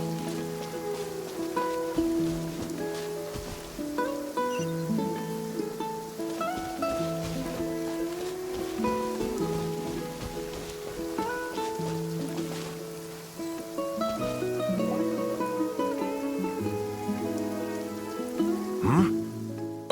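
Heavy rain in a video game pours steadily for the whole stretch, a dense hiss layered under sustained, shifting musical tones.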